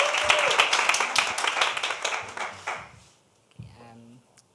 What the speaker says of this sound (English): So let's give Blessing a round of applause.